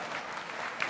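A conference audience at a symposium applauds in a brief, dense wash of clapping that holds steady at moderate loudness and fills the whole second.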